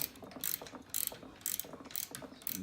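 A ratchet wrench tightens a 10mm nut on the folding joint of an MG-01 scooter, giving five quick bursts of close, crisp pawl clicking with short pauses between and no voices.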